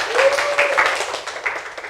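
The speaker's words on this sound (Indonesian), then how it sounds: "Kasih tepuk tangan lagi." Classroom students clapping for a student group after their presentation, a short burst of lively applause that swells and then trails off over a couple of seconds.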